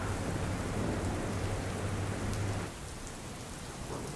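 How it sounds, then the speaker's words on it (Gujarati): Heavy rain pours in Gandhinagar, Gujarat, a dense continuous roar with a low rumble that eases partway through, leaving a lighter steady hiss of rainfall with no voices. "ઉત્તર મધ્ય ગુજરાતમાં સતત વરસાદ છે"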